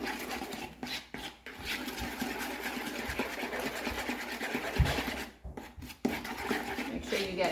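A sauce of brown sugar and seasonings is stirred in a bowl for a meatloaf, giving a steady scraping, rubbing churn with small clinks of utensil against dish, fairly close and continuous.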